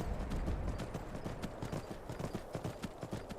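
Horse hooves clip-clop steadily in Skyrim, a rapid even rhythm of hoofbeats close by under a constant ambient bed, with no talking.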